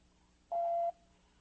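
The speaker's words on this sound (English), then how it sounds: "At the sign of the tone, please leave your message and phone number" Answering machine message tone: a single steady electronic beep, about half a second long, clear and alone against a quiet line hiss.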